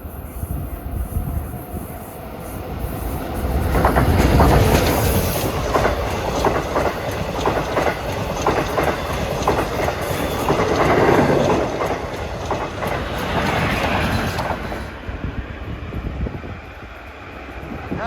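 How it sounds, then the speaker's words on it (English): An eastbound LIRR commuter train rumbles past on the tracks at Woodside, loud and close, with rhythmic clickety-clack of wheels over rail joints, fading slightly toward the end. "Approaching eastbound at 4:18 is a train that's making his first run today."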